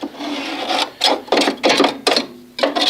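Old dried grass being scraped from under a lawn mower deck, a series of rough rasping strokes in bursts of about half a second each, close and fairly loud with short pauses between.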